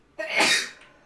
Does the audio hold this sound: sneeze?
yes